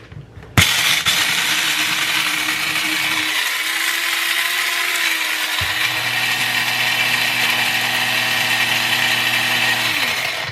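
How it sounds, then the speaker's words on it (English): A coffee grinder grinding beans for a percolator runs as a loud, steady whirring drone for about ten seconds, starting abruptly and dipping briefly mid-run before resuming at an even pitch. "I love the sound of a coffee grinder."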